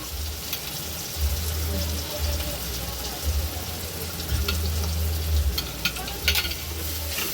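Onion and tomato sizzle as they are sautéed and stirred in a pan for a Malvani-style fish curry, a steady frying hiss with scraping stirs throughout, close up.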